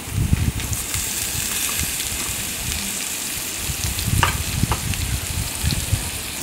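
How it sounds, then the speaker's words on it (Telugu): Snake gourd pieces tossed into hot oil, a loud, continuous sizzle with stirring scrapes and bubbling bursts throughout, close by and with no voices. "ఇప్పుడు మనం ముందుగా తరిగి పెట్టుకున్న పొట్లకాయ ముక్కలు అన్నది వేసేసుకుందామండి"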